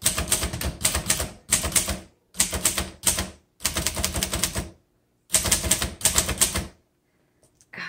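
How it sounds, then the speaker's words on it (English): A 1956 Underwood Golden Touch manual typewriter clatters through several loud bursts of rapid keystrokes separated by short pauses, ending with a few lighter taps, with no talking. "What a great typewriter."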